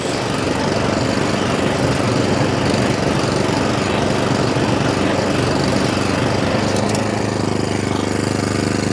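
Atco Balmoral 20SK cylinder lawn mower running close and loud while cutting grass, a continuous steady engine drone with the spinning cylinder's whirr, unbroken throughout.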